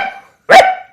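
On a televised comedy stage, a voice imitates a dog barking: one short bark, a brief pause, then a louder, fuller bark, heard close and clear with no other talk.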